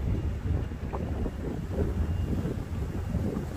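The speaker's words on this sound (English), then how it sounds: "It's a little windy." Wind buffets the microphone in heavy, low rumbling gusts that continue throughout, with no one speaking.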